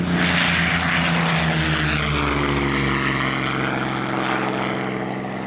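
A P-40F warbird named Pee-wee flies at the Warbirds Over Scone 2022 airshow, its piston propeller engine a loud, continuous droning roar that eases slightly toward the end.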